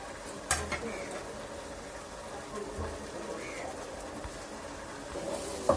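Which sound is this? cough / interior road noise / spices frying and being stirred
spices frying and being stirred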